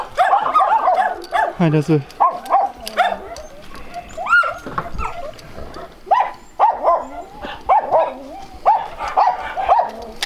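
Sheepherding dogs from a flock of 550 sheep bark in repeated close, loud bursts with some yips and whimpers, mixed with people talking nearby throughout.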